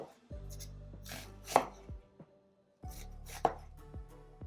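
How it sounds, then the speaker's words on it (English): A knife chopping onions into large strips on a cutting board, with two clusters of several firm, close thuds separated by a short pause, no voices. "for the onions, we're just gonna cut it into larger strips."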